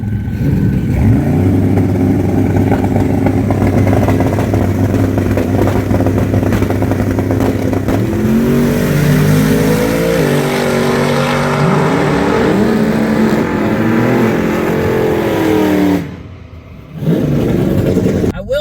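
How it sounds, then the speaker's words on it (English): Drag strip run between a twin-turbo Dodge Dart and a Dodge Hellcat: loud, sustained engine roar with rising revs through the gears, cutting out abruptly near the end before returning briefly. "Racing my homeboy in his Dodge Dart, dude."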